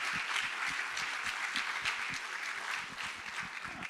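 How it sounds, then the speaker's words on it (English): An audience at a startup demo day claps steadily for several seconds, a dense wash of applause at moderate volume with no voices on top. "give a fantastic round of applause for everyone that's helped me from the GV audience"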